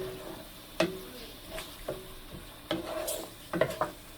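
Chickpea masala spice being stir-fried in a pan, with sparse scraping strokes and clinks at uneven intervals over a faint sizzle.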